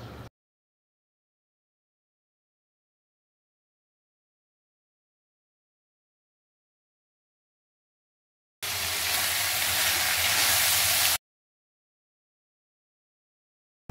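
Fresh small shrimp (ola jawla) hit frying onion in a pan and sizzle loudly for a couple of seconds, with long silence before and after.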